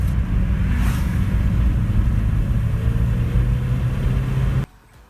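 A Porsche 944 Turbo on a test drive rumbles in a steady, close engine drone that holds evenly, then cuts off abruptly near the end, leaving only faint background.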